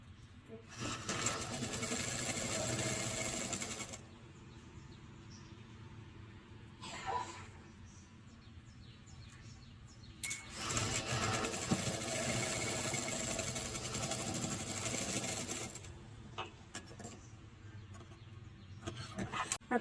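Sewing machine stitching a hook strip onto a half-katori blouse, whirring in two loud runs and a few short bursts with pauses between.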